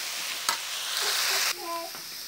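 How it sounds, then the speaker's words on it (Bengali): Salted potatoes browning in a pan give off a steady, close sizzle, broken by a few short clinks of stirring near the end. "আমরা বাদামি কালার আলুটি ভেজে নেব।"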